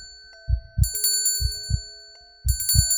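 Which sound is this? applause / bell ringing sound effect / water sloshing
bell ringing sound effect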